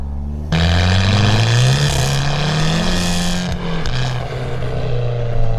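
A modified Abarth 595 engine revs hard and close, its exhaust rumbling and crackling with pops as the pitch rises and falls.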